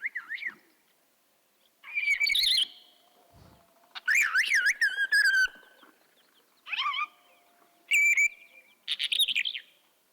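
A songbird sings in flight, mixing mimicked calls of a redshank and a pied wheatear into bursts of clear whistles, rapid chirps and warbling phrases separated by short silences, close and loud in a quiet setting.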